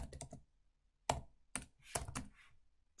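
A name being typed on a computer keyboard, heard as a few close, crisp keystroke clusters separated by short silent pauses, with no voices.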